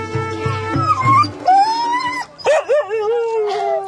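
Huskies yip, bark and howl up close, with loud sharp barks at first and then long wavering howls rising and falling, several dogs overlapping.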